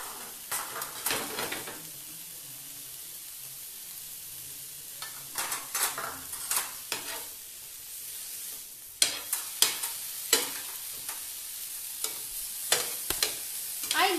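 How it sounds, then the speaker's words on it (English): Paneer pieces shallow-fry in a pan, a faint steady sizzle broken by scattered clinks and scrapes of a utensil against the pan, louder toward the end, with no talk. "So let's shallow fry them."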